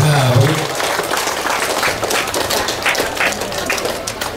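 Wedding guests applaud steadily throughout, a dense crowd clapping at moderate distance, with a brief voice at the very start.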